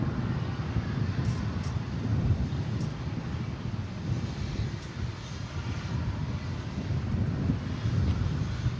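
Strong wind of about 20 miles an hour buffets the microphone at DFW Airport at night with sprinklers running, a continuous rough low rumble with a faint distant aircraft drone under it and no speech.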